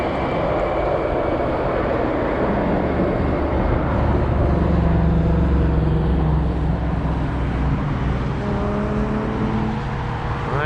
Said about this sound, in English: I heard a car.